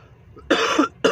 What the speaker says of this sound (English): that's why I'm coughing a little bit